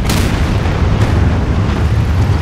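Dense, continuous rumbling booms of explosions in the video game Anno 2205, loud and close, with sharp bursts near the start and around one second, no voices.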